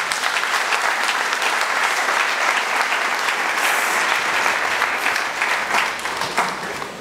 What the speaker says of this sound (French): Je nous demande donc de l'acclamer pour ce compte-là.